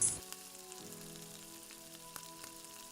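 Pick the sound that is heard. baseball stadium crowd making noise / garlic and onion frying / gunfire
garlic and onion frying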